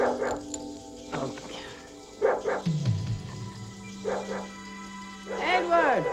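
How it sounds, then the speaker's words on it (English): A dog barks repeatedly at night in an action movie scene, several sharp barks and yips spread through the clip, mixed with people talking. "What is that damn dog barking about?"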